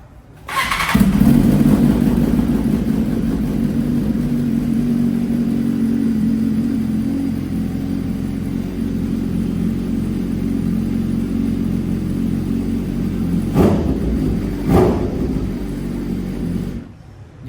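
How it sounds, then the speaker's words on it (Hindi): Heavyweight motorcycle fitted with an Austin Racing aftermarket exhaust, an unregistered bike, fires up loud and close and settles into a deep, throaty rumbling idle, with a couple of sharp blips of the throttle near the end. "आफ्टर मार्केट इसके ऊपर एग्जॉस्ट सिस्टम लगा हुआ है ऑस्टिन रेसिंग का"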